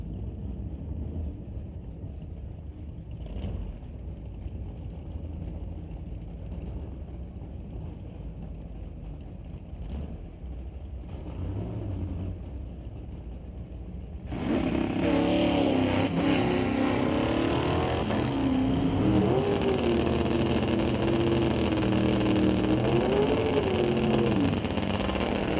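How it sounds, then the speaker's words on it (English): Drag racing cars, including the Riff Raff Racing Mustang, rumble low at the line, then a loud, sustained engine roar with shifting revs takes over for the second half. "racing against Dale Posnick with the Riff Raff Racing Mustang on the far side"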